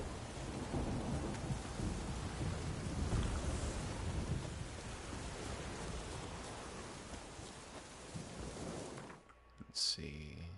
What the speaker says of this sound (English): How about that? Another storm.